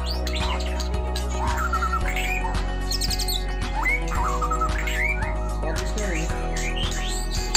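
Songbirds at a bird breeding farm chirp and whistle repeatedly in quick, bright phrases over a steady low hum, with faint voices in the background.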